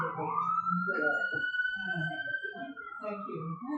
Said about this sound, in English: let's see if I can complete with a siren.